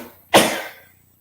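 A single sharp sneeze bursts out close to the microphone and trails off quickly into quiet.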